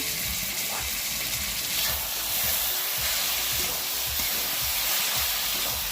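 Chicken skin curry with red chilli powder and spices sizzles steadily in a pan, a broad continuous hiss with faint scraping of stirring underneath, close and alone with no voices.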